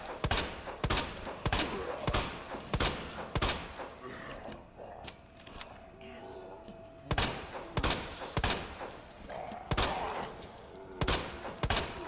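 Gunfire in Resident Evil 2 Remake, a string of sharp, loud shots in bursts with a pause midway, then a renewed volley of evenly spaced rounds.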